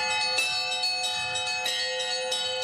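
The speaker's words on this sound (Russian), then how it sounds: "Это тоже звон русских колоколов, только звенят они в Сирии." Russian church bells ring at a military base in Syria, several bells striking in a steady, overlapping peal with sustained ringing tones, fairly loud and continuous with no talking.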